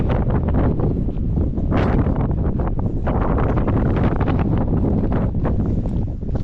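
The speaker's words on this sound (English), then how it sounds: "today is of course very windy and rainy." Strong coastal wind and rain near Bude, Cornwall, buffet the microphone in loud, continuous roaring gusts, with no voices.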